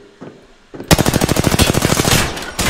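Rapid automatic gunfire from an Apex Legends match bursts in loud and close after a brief quiet lead-in, a dense stream of sharp shots continuing to the end with a short pause near the finish.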